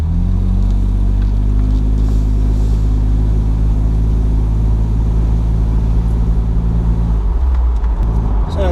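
A low-mileage BMW Z3 at operating temperature pulls away in drive. A steady, loud engine drone with a deep rumble sits close throughout, and its pitch shifts as the car gets moving near the end.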